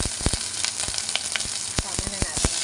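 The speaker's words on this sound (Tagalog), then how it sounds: "Gisa natin kung ginger" Ginger sautéing in a hot pan for chicken soup, a steady close sizzle with sharp clicks and taps of a utensil scraping and stirring throughout.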